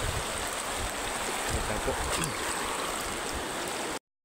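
Broad, steady rush of a wide river flowing at San Remigio, a dense continuous wash of water noise close to the recorder, with someone briefly speaking over it before it cuts off.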